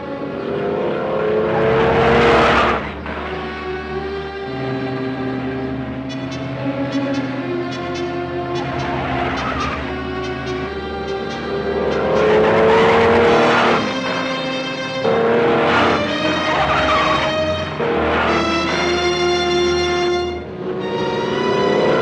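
A car engine roars steadily at speed during a road test, loud and close, with shifting pitch as it accelerates and holds high revs, layered with dramatic orchestral music throughout.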